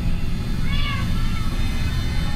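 A cat mews once in Minecraft, a short, fairly faint call over a steady background of game noise and low rumble.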